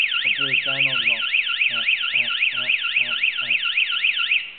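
A Tike Securite MN2009 home alarm blares a steady, loud warbling siren that rises and falls continuously, while someone talks underneath it.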